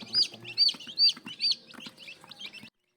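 Chicks on a gamefowl farm peep in a run of high, shrill calls, about six or seven close chirps in quick succession before they stop.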